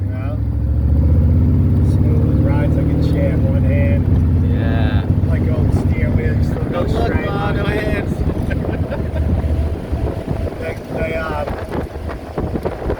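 A 1932 Ford Roadster Deuce hot rod is on the move. A deep, continuous engine rumble sits beneath loud wind buffeting, with voices talking over it.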